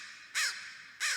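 Crow cawing, taken from a nature documentary for use as a sample in a drum and bass track: two harsh, hoarse caws about half a second apart, clear and fairly close.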